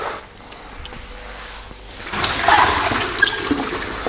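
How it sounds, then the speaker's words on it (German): Old spinach cooking water poured from a pot into a kitchen sink drain, a rushing, splashing gush that swells after a quiet start and continues steadily to the end. "Altes Wasser weg, alle Nährstoffe, die da drin waren, ab in den Gulli."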